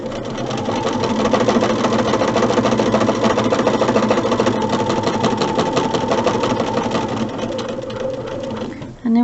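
A sewing machine stitches quilt block fabric for Star Light Star Bright corner units, running in a fast, continuous mechanical whir close up before stopping abruptly near the end.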